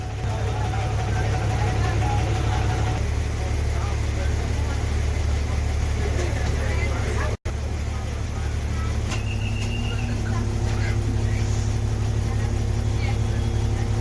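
An MSRTC Tata BS6 CNG bus engine pulls away from Thane's Khopat bus stand, a steady loud low rumble under continuous talk and background noise, with a brief dropout midway.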